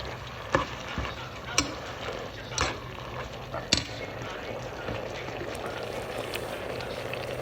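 Beef pares simmering with oyster sauce is stirred in a pot, with a few sharp utensil knocks and scrapes over a steady low bubbling, close and moderately quiet.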